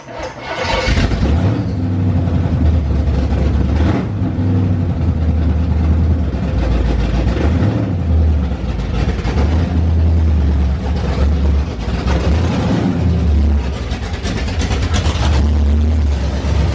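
A truck engine rumbles loud and close during a street launch test at 3,000 RPM, a deep idle swelling into several heavy revs and easing back, with no speech over it.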